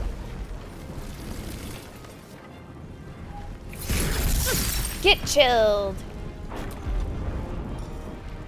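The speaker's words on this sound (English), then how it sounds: "Yeah, that explosion" A spell in Baldur's Gate 3 goes off with a bright crashing burst and icy shattering crackle, followed by a ringing magical sweep and a quieter rumble, while a voice speaks briefly beforehand.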